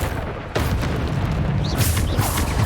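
A Bombarda spell explosion in the Hogwarts Legacy video game lands as a sudden loud boom about half a second in. A dense, rumbling blast texture follows and carries on with further crackling bursts.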